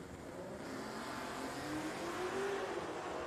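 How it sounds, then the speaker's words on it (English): A 2010 Camaro drag race car accelerates down the strip at Richmond Dragway, its engine a steady, loud roar with a rising pitch through the run, heard from a moderate distance with no talk. "Michael Sams in a 2010 Camaro, dialed 647."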